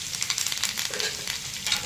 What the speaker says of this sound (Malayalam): അതിലേക്ക് നമുക്ക് 2-3 ഇതൾ കരിയാപ്പില,